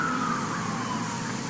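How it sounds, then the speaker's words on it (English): A siren wails in the distance, its tone slowly sliding, heard faintly over a steady background rumble. "Those darn sirens"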